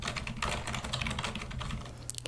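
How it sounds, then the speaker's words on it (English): Fingers typing on a computer keyboard, a dense, irregular run of close, crisp key clicks and taps that continues without pause, with no voices. "You try to type on your keyboard."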